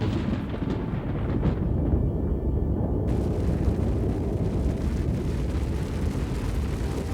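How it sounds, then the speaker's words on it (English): A deep, sustained rumbling roar fills the clip, Vesuvius erupting in a massive volcanic blast rolling on without letup, heavy low-end power and no voices. "Then Vesuvius erupted."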